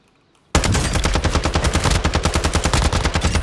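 An ISO Hemlock rifle fires in Warzone, a sudden start into a fast, steady stream of loud, close shots that keeps a regular rapid rhythm to the end, with no talking.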